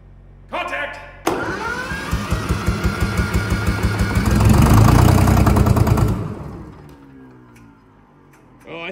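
A $250 two-stroke Detroit Diesel engine that sat unused for over six years cranks and catches, chugging with a fast rhythmic pulse that swells loudly, then slows and fades as it dies, with people talking.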